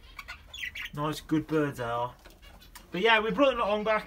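Caged birds, among them budgies, finches, canaries and doves, call and coo close by in bursts of harmonic chirps, while someone talks over them.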